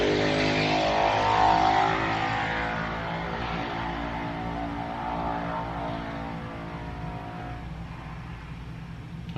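A car engine revving loudly just outside an open window, a sustained roaring drone that swells early and then settles into a steadier, slightly fading rumble, with no talking over it.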